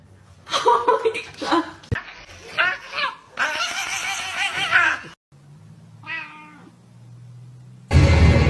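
A tiny kitten gives a short, high meow in a home, close by. Around it, people chatter and laugh in French and English, and a loud rustle comes at the end.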